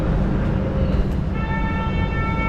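A subway train in Lisbon, Portugal, rumbles loudly with low, dense rolling noise from inside the carriage, and a steady high whine rises partway through as the train runs.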